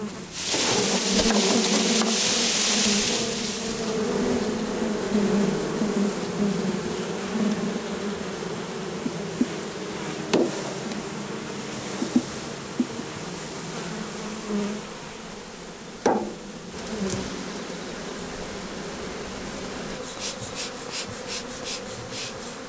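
Bees buzz steadily at a beehive, a dense close insect drone throughout, louder at the start, with a few brief knocks and rubbing sounds.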